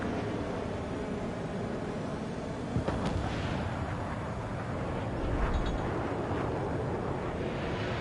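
Fighter jet cannon fire in the combat flight game Ace Combat 7, a dense continuous roar of rapid shots with engine rumble, loud and unbroken, with a brief heavier burst partway through.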